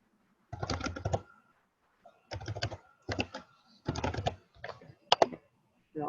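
Keys clatter on a computer keyboard as a zip code is entered during a training webinar, coming in short bursts of rapid clicks separated by quiet pauses, close and clear with no talk.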